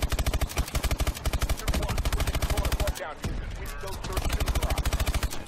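Rapid burst-fire gunshots from Call of Duty: Advanced Warfare, loud and continuous with steady rhythmic rounds, a short break near the middle, then another rapid stream of shots.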